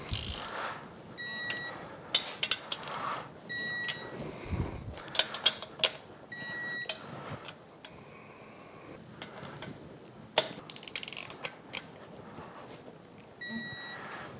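A torque wrench tightens the perimeter powerhead bolts on a Yamaha F225 outboard at 10 foot-pounds, with several short, evenly spaced electronic beeps standing out over faint mechanical clicks and shop noise.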